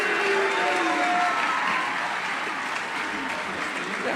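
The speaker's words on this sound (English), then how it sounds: "I think you should keep that applause going for them as they exit the stage." An audience at the Frosty Awards ceremony applauds as winners leave the stage, a sustained wash of clapping with a faint voice underneath.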